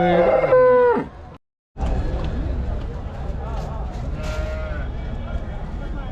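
Cattle at a livestock market in Erode, with young heifers for sale, give loud, drawn-out moos close by, then a brief cut. A busy crowd murmurs and voices talk throughout.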